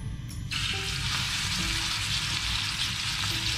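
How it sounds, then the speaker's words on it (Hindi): Chicken shallow-frying in oil in a pan for tawa chicken, a dense, loud sizzle that jumps up after a brief quieter start and then holds steady, with no talk. "फ्राई होगा अच्छी तरीके से"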